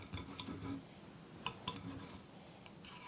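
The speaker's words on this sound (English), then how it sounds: "Take your knife, take your fork, and you usually just cut like that and just let it just gush the yolk" Faint clinks and ticks of a knife and fork cutting into eggs Benedict on a plate, a few light metallic taps spread out over quiet room tone.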